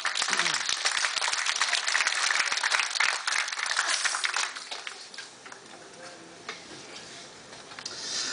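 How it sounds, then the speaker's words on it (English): A casino show audience breaks into applause, dense loud clapping for about four seconds that then thins into scattered claps and fades, with faint background murmur. "And let's give another round of applause."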